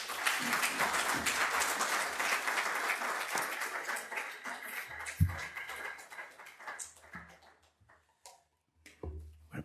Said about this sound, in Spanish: Enhorabuena, Eugenio, con este aplauso, y a ti la palabra.